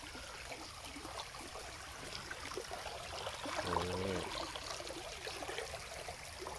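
Pumped water flows out in a steady, fairly quiet rush, like a stream, near a spot where eel hooks are being set.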